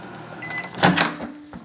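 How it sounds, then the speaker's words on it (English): A microwave oven runs with a steady low electric hum, and a couple of soft clunks sound over it. "I guess I just have a weak microwave."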